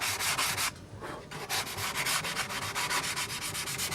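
Wood being hand-sanded with 220 grit sandpaper on a model aircraft part, a close, rhythmic series of raspy back-and-forth strokes with one short pause.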